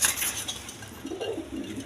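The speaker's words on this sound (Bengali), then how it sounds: "দর্শক বিন্দু, এখানে এক পেয়ার ডাউগা কবুতর আছে" A pair of Dauga pigeons, one male and one female, at a pigeon farm give soft, close cooing calls over faint clinking in the background.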